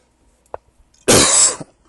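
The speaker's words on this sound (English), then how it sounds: "Sorry about that cough." A single loud, harsh cough close to the mic, preceded by a brief small click, then quiet.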